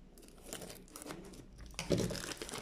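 Plastic and cardboard packaging of an outdoor rock-style Bluetooth speaker crinkles and tears as it is pulled open, a steady rustle building to a louder ripping burst near the end, close and without talk.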